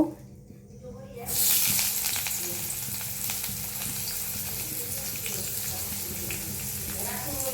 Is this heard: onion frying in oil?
yes